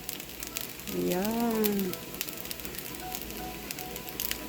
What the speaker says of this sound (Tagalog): Ayan, naninilaw na sa bawang.